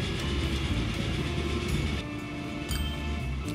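A freight train hauling steel in the Transport Fever railway simulation game rolls past steadily, with a continuous loud rumble and rail noise throughout and a slight dip partway through.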